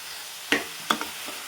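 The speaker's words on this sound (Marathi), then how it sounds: "तेलामध्ये छान फ्राय करून घ्यायचं" Pieces of bitter gourd (karela) fry in oil with a soft, steady sizzle, punctuated by a few brief spatula stirs and scrapes.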